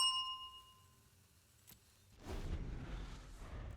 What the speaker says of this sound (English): Ring the punt bell.